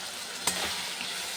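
Spice paste of green chilli, turmeric, Kashmiri chilli powder and salt frying in a pan for a fish curry: a steady soft sizzle with one sharp stirring scrape, faint and close, without any talking.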